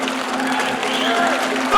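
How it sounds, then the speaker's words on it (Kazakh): An audience keeps up brief, steady applause at a 2016 Kazakh aitys poetry contest. A sustained tonal voice or instrument hums over the clapping, which swells slightly at the very end. "Қошеметтеп отырайық, қошеметтеп отырайық."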